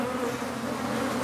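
Africanized honeybees buzz steadily around an exposed hive with honeycomb during a removal, a dense, continuous, close swarm hum with no voices.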